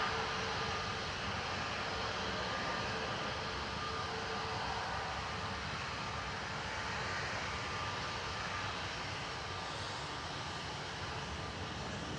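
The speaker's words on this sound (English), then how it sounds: "It's Turkish heading off to Istanbul there, A321 Neo" A Turkish Airlines A321neo airliner departs Manchester Airport with a steady, broad jet roar that holds level throughout at moderate distance. There is no talk.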